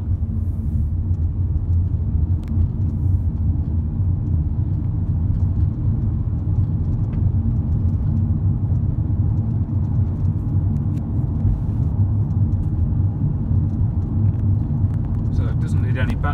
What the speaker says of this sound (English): when you're ready to go, just squeeze the accelerator,